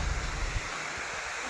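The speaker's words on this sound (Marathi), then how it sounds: "हा मस्त पाणी आहे इकडे" Water flows outdoors beside a farm field, a broad steady rushing hiss with a brief low rumble of wind at the start.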